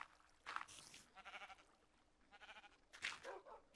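Minecraft sheep bleats in-game, two short nasal bleats about two and a half seconds apart, fairly loud against quieter game noise and other mob sounds.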